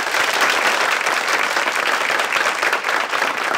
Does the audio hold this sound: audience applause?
yes